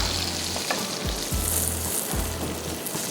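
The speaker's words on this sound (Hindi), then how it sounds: "अच्छा सा गोल्डन कलर देंगे थोड़ा सा गार्लिक को" Garlic frying in hot oil until golden for chicken sajji masala, a steady dense sizzle heard close up, with a few soft stirring thumps and scrapes running through it.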